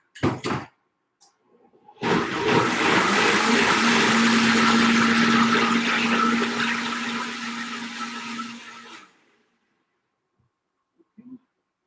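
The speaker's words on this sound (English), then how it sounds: "I love the blenders, but they are super noisy" A blender whirs loudly and steadily for about seven seconds with a droning hum, starting and stopping abruptly, with brief clunks before and after.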